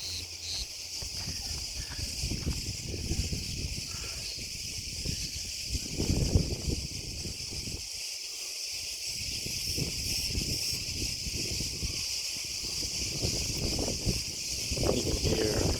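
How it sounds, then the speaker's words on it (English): Cicadas buzz in the midday heat of a traditional Cretan village, Limnes in Lasithi, a steady high shrill drone held throughout under rustling and footsteps of someone walking. "The sound of the cicadas chirping away in the heat of the day."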